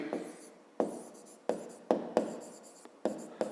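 A pen or chalk writes out a geometry solution for a fifth-grade maths exercise, giving a run of short, sharp strokes close by at an uneven pace with no voice.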